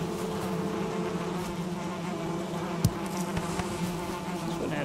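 Bees buzzing around a beehive in the video game Valheim, a dense continuous drone that stays loud and even throughout, with one brief click partway through and no speech.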